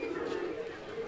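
Racer pigeons in a breeder's loft give a continuous low cooing murmur, close and fairly steady, mixed with faint background voices.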